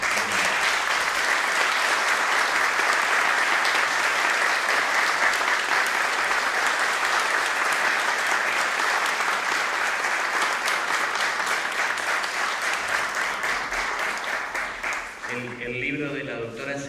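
Audience applause at a cultural event in a lecture hall, dense sustained clapping from a large crowd that fades near the end as a voice begins.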